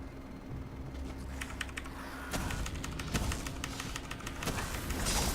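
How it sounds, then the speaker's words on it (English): Computer keyboard keys hammered rapidly while playing an online game, a dense, continuous clatter of clicks that grows busier and louder partway through, heard close with no talking. "so you can hear in the microphone me pressing the keys, which is really to say totally spamming the keys"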